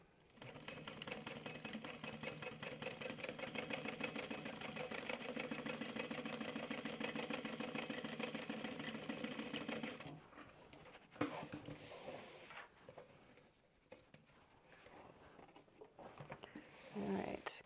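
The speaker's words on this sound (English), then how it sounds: "And we're just gonna sew right in the center there." Domestic sewing machine stitching down the center of an apron: a rapid, steady mechanical whirring run of stitches for about ten seconds, then stopping, followed by quieter handling clatter.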